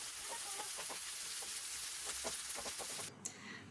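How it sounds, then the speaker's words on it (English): Goat brain (maghaz) frying on a tawa gives off a steady, faint sizzle with soft crackles and a few stirring scrapes, and a brief clatter near the end. "we have to add our maghaz brain and cook it for approximately 10 minutes"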